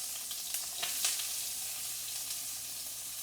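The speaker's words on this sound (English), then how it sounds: "Now you have to cook the onion, which I have cut it, 1 big one or 2 small ones." A large onion, or two small ones, cooks in a pan with ginger and garlic paste for Rajasthani dal baati. It gives a steady, moderate sizzle with faint stirring clicks and no talk.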